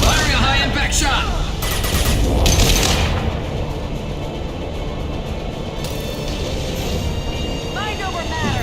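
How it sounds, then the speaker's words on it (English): Weapon fire in Mass Effect 2 as a high-impact shot goes off, with loud bursts and impacts over dense combat noise and voices talking through the fight. "Firing a high-impact shot!"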